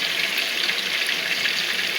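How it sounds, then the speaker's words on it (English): Onion frying in a pan gives a steady, close sizzle with fine crackling and no pauses. "And over here my onion is frying"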